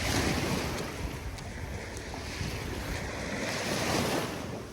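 Sea waves wash steadily at sunset in open water off Australia, a continuous broadband surf roar mixed with wind noise on the microphone, with no voices.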